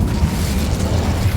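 An Incendio fire spell is cast in Hogwarts Legacy, a loud, dense whooshing burst of flame that roars steadily throughout with a booming low-end rumble and no pause.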